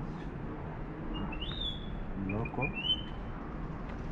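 A bird calls at Victoria Falls (Mosi-oa-Tunya), Zambia, giving a few short whistled notes over the steady roar of the falls while people talk nearby.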